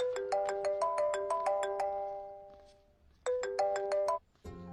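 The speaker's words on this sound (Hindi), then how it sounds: "आपको किसी का फोन आ रहा है।" A phone ringtone plays a bright chiming melody, pauses, then starts again before cutting off into another sound, loud and close in a Hindi-dubbed South Indian film scene.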